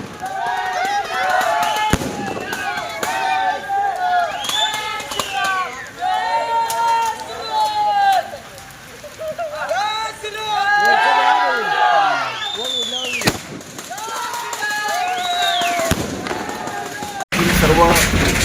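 Fireworks and firecrackers pop and crackle repeatedly at a street celebration in a neighbourhood, with a lively crowd cheering and chattering around them and a sharp loud bang near the end.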